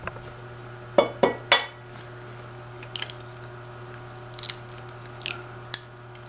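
Eggs are taken one at a time into an old Tupperware egg separator, giving a few faint hollow plastic clicks and taps in a quiet kitchen, with scattered light knocks after them.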